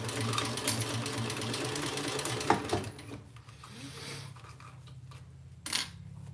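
A sewing machine runs steadily for a few seconds stitching the seam of a crossbody bag, close and continuous, then stops with a few small clicks and handling noises.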